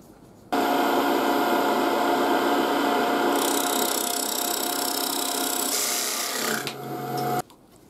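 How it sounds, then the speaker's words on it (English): Wood being parted off on a lathe while making a children's percussion rhythm instrument: a steady, loud rasping cut that runs for about seven seconds, grows harsher partway through, then tails off and stops. "it takes away the wobble when I'm parting this end off."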